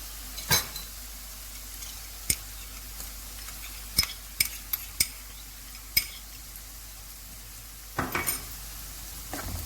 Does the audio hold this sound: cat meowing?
no